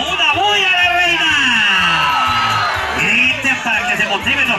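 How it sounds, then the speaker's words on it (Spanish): A dense crowd at a nighttime bullfight festival in La Reina, Chalatenango, El Salvador, whoops, shouts and cheers loudly and continuously, with voices swelling and overlapping throughout and a rhythmic low thumping underneath. "¡Grite para que se motiven los toreros!"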